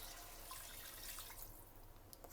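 A glass of water is poured into fish biryani gravy in a pressure cooker, a brief splashing pour with a bright hiss that fades toward the end, quiet and close.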